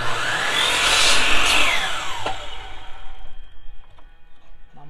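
A power miter saw slices a 45-degree angle through window trim, a loud broadband whine that builds over the first two seconds, then spins down and fades into quieter workshop rattles.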